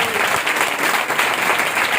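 A church congregation in Pakistan claps together during a service, a dense, even wash of applause held throughout at close range.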